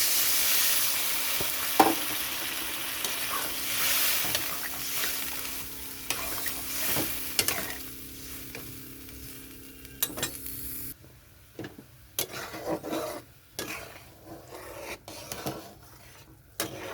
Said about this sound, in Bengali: কষানো হয়ে গেছে, এখানে জল দিয়ে দিচ্ছি